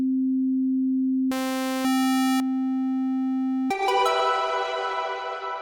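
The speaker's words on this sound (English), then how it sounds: "the other one is an oscillator, that you can think of it as a really basic synthesizer" A MeldaProduction free oscillator plugin holds a steady pure sine tone, then briefly jumps to buzzy, harmonic-rich waveforms before returning to the plain tone, and finally switches to a bright, rich tone that slowly fades, all alone with no talk.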